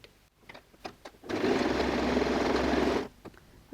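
A sewing machine stitches a dress seam in a continuous whirring run of about two seconds, framed by small clicks and handling taps before and after, close up and with no voices.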